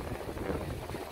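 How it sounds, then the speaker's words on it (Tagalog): Strong wind blowing by the sea at Atimonan, Quezon, with rough waves nearby: a brief, steady roaring rush of gusting air buffeting the microphone, loud and continuous with no talk. "Sobrang lakas ng hangin."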